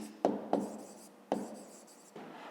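Pen strokes of handwriting on paper during a maths exercise, several short scratchy bursts with brief pauses between them, close and fairly quiet, with no voices.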